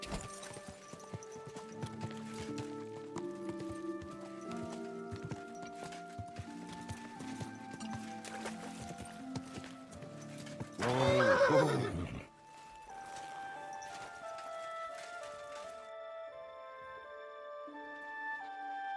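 A horse whinnies loudly over game music and steady hoofbeats in Kingdom Come: Deliverance, the neigh rising sharply near the middle before the music carries on.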